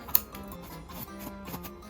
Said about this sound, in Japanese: すきばさみかハサミを縦に入れてすいていきます